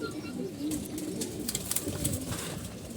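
Racing pigeons cooing softly in a loft, low murmuring coos overlapping in a steady stream with a few sharper rustles and flutters nearby.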